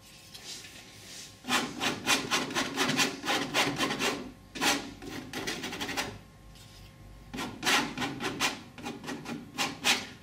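A painting knife spreads and scrapes oil paint across canvas, filling gaps between colours in a dune landscape. Repeated close, dry rasping strokes come in quick bursts with short pauses between them, and no talking.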